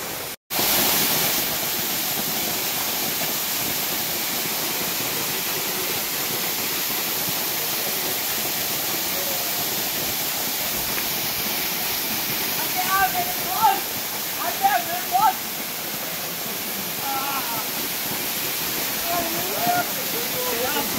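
A hidden waterfall pours steadily, a loud, dense and continuous roar of falling water close by, with faint voices briefly audible over it.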